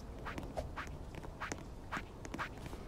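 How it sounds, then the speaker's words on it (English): Footsteps of characters in a video game, several steady evenly spaced steps over a continuous background noise bed, moderately close and with no talk over them. "I think it's just our footsteps"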